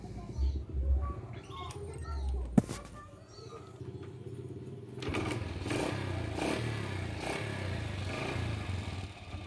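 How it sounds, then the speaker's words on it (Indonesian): A Yamaha Jupiter Z motorcycle engine runs rough with a knocking sound, suspected to come from the connecting rod. A sharp clack is heard early on, and a faint voice talks over the steady running. "suara mesin yang bunyinya kasar sekali Dan kata yang punya juga bilang stang seher"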